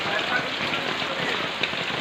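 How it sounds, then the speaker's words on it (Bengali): Rain pours onto a village market, a dense, steady patter of drops that stays constant and fairly loud for the whole stretch. "এই সকাল থেকে বৃষ্টি"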